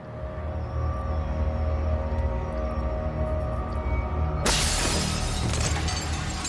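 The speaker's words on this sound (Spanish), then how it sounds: "Los cristales comenzaron a caer sobre la calle." Glass windows of a Boston skyscraper under construction in 1971 shattering and falling to the street, a low rumble that bursts into a loud, bright crash of breaking glass partway through.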